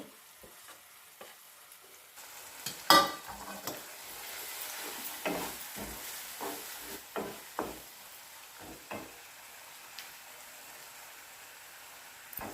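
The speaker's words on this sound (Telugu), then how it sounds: "అంతా కలిసేంత వరకు కలుపుకోవాలి" Chilli powder, salt, coriander powder and kasuri methi are stirred into paneer masala gravy in a pan, with irregular spoon scrapes and knocks against the pan over a faint low sizzle, fairly close.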